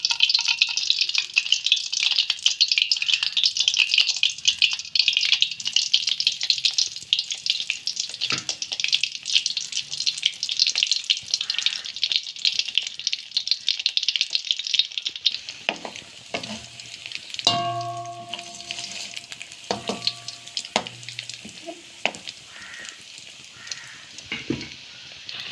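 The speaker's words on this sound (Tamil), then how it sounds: "இப்படியே வந்து எல்லா ரோல்ஸையும் எண்ணெய்க்குள்ளே போட்டு எடுப்போம்." Egg rolls deep frying in boiling oil, a steady bright sizzle throughout, then quieter bubbling later with a few metallic clinks and scrapes of a utensil against the pan.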